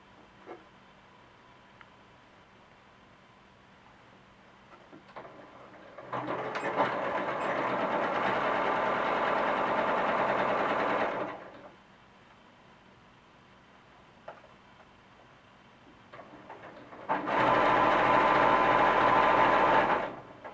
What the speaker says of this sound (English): I'm going to sew all the way around until I get to the bottom next to the other leg